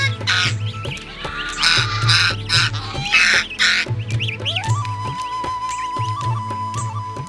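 Ducks and geese in a rural Bangladeshi village give repeated loud honks and quacks in bursts, close by, over a steady low hum with a faint tone running beneath.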